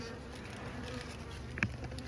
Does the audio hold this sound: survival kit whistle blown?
no